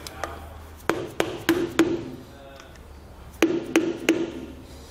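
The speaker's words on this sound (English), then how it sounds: "grabbing a flat blade screwdriver, kind of tapping along that outside lip, carefully knocking it" Metal taps from a flat blade screwdriver knocking along the outside lip of a Dexter trailer axle beam: two clusters of sharp, ringing strikes with a pause between, close and clear with no talk.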